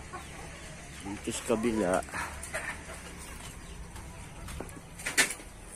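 Chickens kept at a rural provincial home cluck in short bursts near the middle of the clip, with a brief sharper call toward the end, under a person talking nearby and low background noise.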